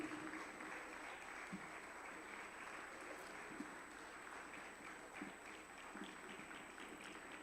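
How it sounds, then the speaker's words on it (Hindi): Sustained applause fills a conference hall at a neurology conference as a book is released, steady clapping from many hands at moderate distance with a faint constant high tone. "जोरदार तालियों से स्वागत करें।"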